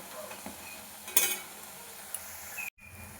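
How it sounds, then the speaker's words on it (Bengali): Lentil fritters (bora) frying in hot oil, a soft continuous sizzle close by with a brief clink of a utensil partway through and then a sudden cut to silence. "অন্য সাইডে ভালো ভেজে নেব।"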